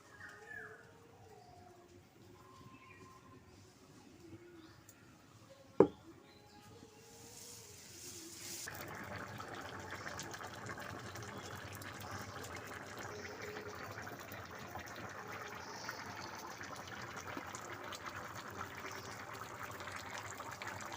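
Water poured into a pot of mixed vegetables cooking for pachon. A steady gushing wash starts partway through, after a quieter stretch with birds cooing and one sharp knock.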